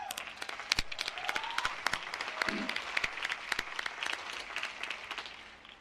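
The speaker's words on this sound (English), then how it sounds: "all of you deserve a round of applause for your support of the university" A commencement ceremony crowd applauds steadily, dense clapping throughout with a few louder individual claps standing out.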